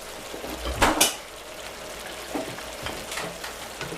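Whole garlic cloves and mint sizzle and crackle in a hot pan, with a burst of louder spattering early on, then a steady low fry with occasional pops.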